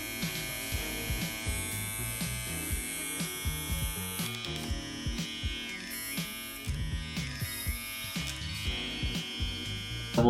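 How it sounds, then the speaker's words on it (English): JRL Fresh Fade 2020C hair clippers run continuously close up, a loud steady buzzing whine with shifting pitch as the blade lever is moved between settings, alone without talk. "when my clippers are all the way open, they are a little bit more noisy than they are when they're between"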